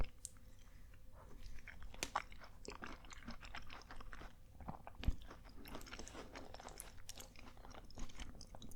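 Close-miked chewing and crunchy biting of a cheap meal, with soft wet mouth sounds repeating at a slow, uneven pace and no talking.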